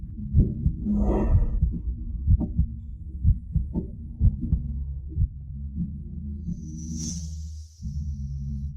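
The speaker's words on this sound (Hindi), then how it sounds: "दिल की धड़कन बढ़ गई।" A heartbeat sound effect for a romantic drama scene, steady low thumping pulses running throughout at close range, with a brief bright tone midway and no voices.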